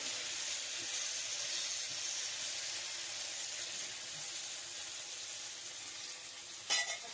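Grated coconut and garlic roast in a pan for an eggplant curry masala, giving a soft, even sizzling hiss throughout, with one brief scrape of the pan near the end.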